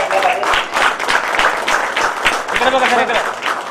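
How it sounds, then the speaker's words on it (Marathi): A crowd at a women's honour award ceremony claps loudly in a sustained burst while a voice speaks over the applause. "टाळ्या जोरदार"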